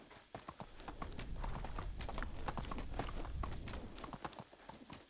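Horse hoofbeats galloping in the video game Medieval Dynasty, a steady, fast clip-clop rhythm close up that runs throughout, with a faint snort or whinny in the mix.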